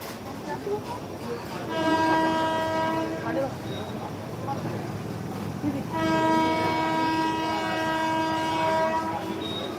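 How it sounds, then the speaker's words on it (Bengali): A train sounds its horn at a station in Habra, two long loud blasts separated by a pause, over rumbling station noise and background chatter. "স্টেশনে ট্রেন দিচ্ছে"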